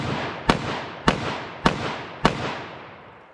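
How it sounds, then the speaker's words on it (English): Four sharp, evenly spaced shots from a .327 Federal Magnum snub-nose revolver firing Hornady Critical Defense rounds at a target seven yards away, each loud crack trailing off in a long echo, with no talk. "I'm going to fire rapid shots as quickly as I think I can hit center mass."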